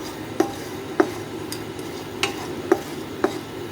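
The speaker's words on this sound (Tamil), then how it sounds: "இதில் ஒவ்வொரு பொருளையாக நம்ம நல்லா வறுத்து மாற்றி வச்சுக்கலாம் பாத்திரத்தில்." Pepper and spices dry roasting in a pan for a homemade cough powder, stirred with a utensil that knocks and scrapes the metal in about five sharp taps over a soft continuous rustle, close and alone.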